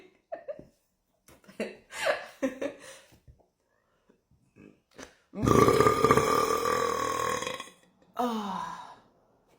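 Up close, a woman lets out a long, groaning burp imitating a cow, followed by a shorter second belch, after a stretch of small throaty noises and breaths.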